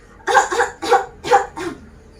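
A voice imitates a cat named Pusi coughing in a children's story, four or five short harsh coughs in quick succession, close and clear.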